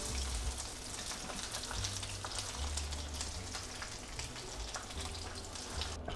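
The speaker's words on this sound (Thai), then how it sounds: "ค่อยๆทอดไปเรื่อยๆนะครับ" Chicken pieces fry in hot oil for a Chinese-style red-wine fried chicken dish, giving a steady, close crackling sizzle with no voices over it.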